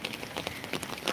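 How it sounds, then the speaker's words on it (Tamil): Rain falling steadily, a close patter of drops hitting a surface in a dense, even hiss with scattered louder taps. "மழை வருது கொடை கொண்டு வா"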